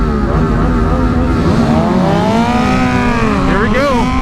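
Several 2023 BMW S1000RR sport bikes rev loudly together at a roll race, their engine notes climbing and overlapping close by.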